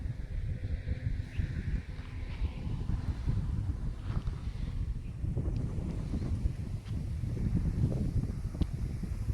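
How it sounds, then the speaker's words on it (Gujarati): Strong wind blows outdoors on a farm, rumbling across the microphone in a steady low roar with faint rustling and no voices. "પવન બહુ છે જુઓ"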